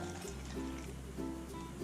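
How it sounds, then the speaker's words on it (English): Tap water pours into a cup, a short trickling fill over a steady low hum, fairly quiet and close, with no voices. "Let's pour some tap water again"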